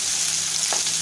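Finely chopped onion sizzling in hot oil while being stirred, a loud continuous close fry with a couple of scraping stir strokes near the end.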